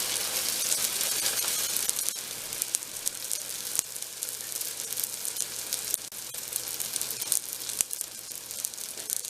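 A green onion cake fries in hot oil with a loud, steady, dense sizzle, broken by a few soft clunks as it is flipped in the pan.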